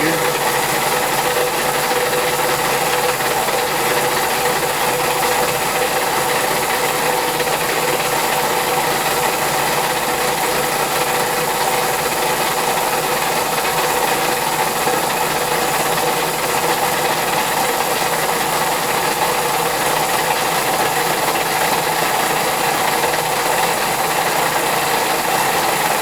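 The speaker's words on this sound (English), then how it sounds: "Put it back into gear." A Van Norman No. 12 vertical/horizontal milling machine runs in gear, a loud, continuous mechanical whir and gear grind with an even ratcheting texture, close and unbroken for the whole stretch.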